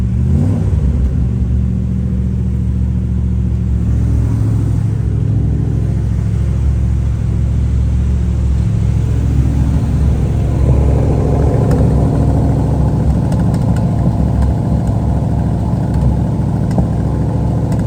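A 1973 Chevrolet Corvette V8 fitted with a lumpy aftermarket cam idles close to the microphone, a steady deep rumble with slight rhythmic unevenness and a small swell partway through, with no talking.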